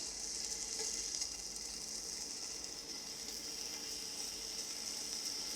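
Meat strips frying in a pan over low heat give a steady, close, even sizzle with no pauses, a dense crackling hiss that stays at the same level throughout.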